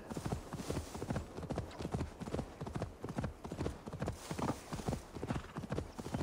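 A horse's hooves clip-clop in steady rhythmic footfalls while it is ridden in the video game Assassin's Creed Valhalla. The clopping is close, even-paced and continuous throughout.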